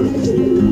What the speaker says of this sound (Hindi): देखो और कबूतर दाने भी ऊपर लेके आ गए